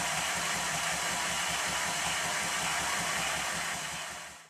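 A Minnie type steam traction engine runs steadily close by, a continuous rhythmic chuffing and mechanical drone that fades out at the end.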